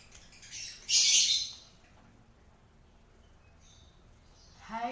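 A Parblue lovebird in a cage gives one loud, shrill squawk close by, followed by quiet and a faint chirp at the end.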